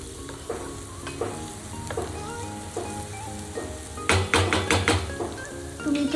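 Chopped onion and tomato sautéing in a pan for paneer bhurji, a steady low sizzle with several sharp spoon scrapes and clinks against the metal, busier toward the end, no voices.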